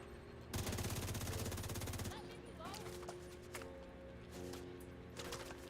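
In a video game, enemy fire sounds as a loud, rapid burst of machine-gun shots lasting about a second and a half, followed by quieter scattered shots and game effects while someone talks.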